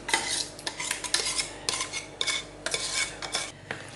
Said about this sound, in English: All we need to do now is give the pasta and the sauce a good mix to evenly coat the pasta.